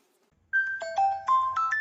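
A phone ringtone plays after a brief silence, a bright melodic sequence of stepped electronic tones rising and falling, clear and close.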